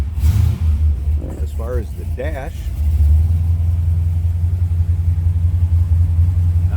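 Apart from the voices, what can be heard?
V8 car engine starting and idling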